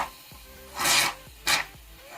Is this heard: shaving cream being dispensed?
yes